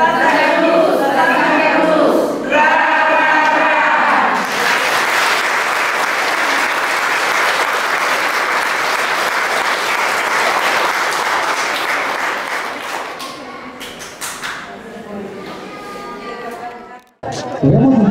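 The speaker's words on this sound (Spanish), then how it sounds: "Queremos escuchar los aplausos, por favor" Outdoor crowd at a patronal village festival in La Concordia, Tlahuiltepa bursting into loud, sustained applause mixed with cheers for around eight seconds, with talk and shouting before it and after it as it dies down.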